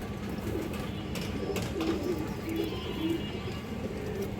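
A female pigeon gives several soft, low coos at fairly regular intervals against a dense murmur of background noise and other birds, with occasional clattering.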